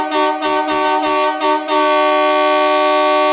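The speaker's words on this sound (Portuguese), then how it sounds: "Chegou cedinho na loja aqui na Sol Buzina pra instalar aquela buzina forte demais, hein? A dupla marítima" A loud dual marine air horn fitted on a car blasts close by, first in several short broken toots and then as one long sustained, steady blare.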